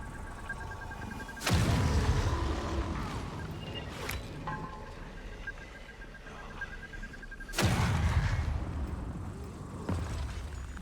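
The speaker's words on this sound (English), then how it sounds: "how did that explosion reach me?" Two heavy explosions in a video game, each a sudden loud broadband blast with a rumbling tail, several seconds apart, with fainter game sounds and tones between them.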